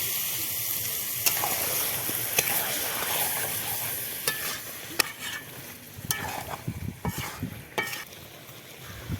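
Spicy meat curry sizzles in a pan as water goes into the spice paste, with a continuous frying hiss broken by sharp scraping stirs and clanks of a utensil against the pan, close and fairly loud.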